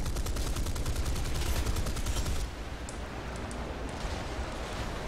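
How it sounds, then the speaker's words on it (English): Rapid machine-gun bursts from an enemy plane in the War Thunder game crackle loud and continuous, a dense rattling stream that cuts off partway through, leaving softer scattered shots over the engine drone. "he's already shooting at me"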